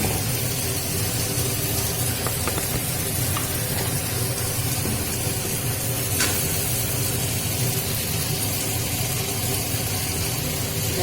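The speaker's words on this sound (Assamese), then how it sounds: "পিঁয়াজখিনি জলকীয়াখিনি ভাজি লৈছোঁ।" Onion and green chili fry in a pan with a steady, close hiss and sizzle that continues evenly without any talk.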